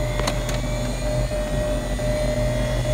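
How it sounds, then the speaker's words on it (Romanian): Inside a Piper 34 Seneca aircraft, the spinning gyroscope gives a steady, continuous whine over a low electrical hum, with a couple of faint clicks near the start. "ce se aude aici este giroscopul, e o rotiță care se învârte foarte, foarte, foarte tare."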